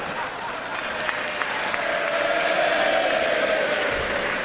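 Applause in the House chamber from colleagues across the aisle, a steady wash of clapping from many hands in a large hall, filling the whole stretch at even loudness.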